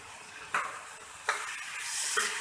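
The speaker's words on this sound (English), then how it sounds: "Mix it nicely, let it cook for next 3-4 minutes" Ratatouille with basil and tomato sauce is stirred in a pan over a soft background sizzle, with three brief scraping swishes spaced about a second apart, close and fairly quiet.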